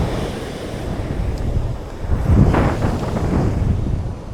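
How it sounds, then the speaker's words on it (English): Strong gusting wind buffets the microphone outdoors on a very windy day during an elopement portrait shoot, a steady roar that swells louder about halfway through, with no voices. "I know the wind is like blowing your hair."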